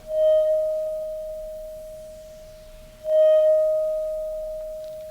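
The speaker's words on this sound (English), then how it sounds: "the beaker is actually responding by playing its own sound back to us" A glass beaker resonating after being driven by a function generator tone, giving a pure steady ringing pitch that swells twice and slowly fades, with no voices.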